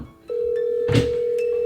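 A phone call rings out on the caller's end: a single steady ringback tone sounds for over a second after a click, with a brief rustle in the middle.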